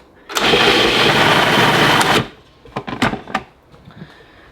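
A blender's motor roars loudly for about two seconds as it purees pesto with a ball of frozen lemon juice, then cuts off, followed by a few sharp clicks and clatters.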